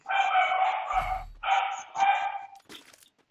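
A dog in the Free Fire video game barks in several loud, close, repeated bursts, with a brief low thump and faint scuffling noises near the end.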